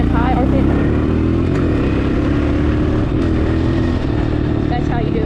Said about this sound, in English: So you downshift, it's in a low, it's in a, get in high RPM.